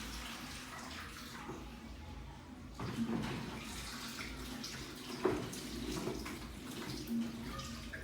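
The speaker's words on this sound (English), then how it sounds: "I'm just washing up the head net coming through right now" Water runs steadily from a tap while a hairnet is washed, a continuous close rushing stream with slight shifts and a few splashy knocks as the flow is interrupted.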